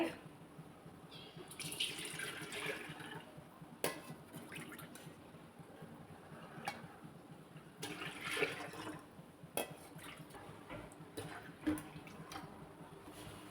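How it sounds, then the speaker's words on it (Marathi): Water is poured from a bowl into a pot on a home kitchen stove, several bowlfuls for boiling: intermittent splashing pours with short pauses between them, fairly faint and close, with no talking. "मी इकडं त्याच वाटीनं तीन वाटे इतकं पाणी घेणार आहे"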